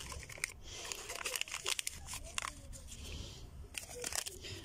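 Small paper seed packet being torn open and handled by hand, giving close, quiet crinkling and tearing rustles in irregular bursts, with no talking.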